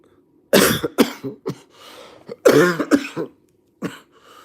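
Several coughs in quick clusters, close and fairly loud, with a softer throat-clearing sound between bursts and another short cough near the end.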